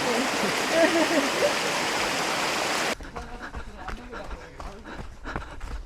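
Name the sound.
feet wading through a mountain stream during a trail run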